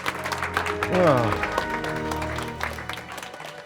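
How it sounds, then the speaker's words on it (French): A studio audience applauds, a scattered rustle of clapping running beneath prominent voices and exclamations, moderately loud throughout. "sous les applaudissements du public"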